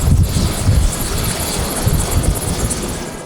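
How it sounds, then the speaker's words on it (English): Loud, low rotor thumping and engine roar of a helicopter, close and continuous for a few seconds. "A helicopter landing with a patient is a slow process."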